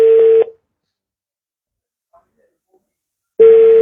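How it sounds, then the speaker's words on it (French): Telephone call tones while dialing out: a steady electronic tone, a long silent gap, then the same tone again, loud and close. "je vais appeler Alassane Sempouré"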